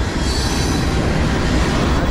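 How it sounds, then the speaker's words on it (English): A CSX freight train of empty tank cars rolls past close by, a loud, steady rumble and rattle of wheels on rail with no breaks, running the whole way through. "What empty tank cars."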